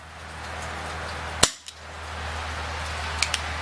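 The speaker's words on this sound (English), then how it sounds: "we're going to shoot 8 rounds in single action through this chronograph" An Umarex Smith & Wesson M&P R8 CO2 BB revolver fires a single sharp, close crack in single action, followed by a few faint clicks over a steady low hum.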